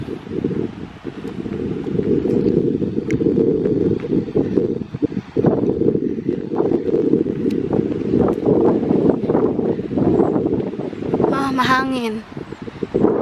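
Steady wind roars across the microphone with constant rumbling buffeting, a continuous outdoor rush with a brief whistling tone near the end.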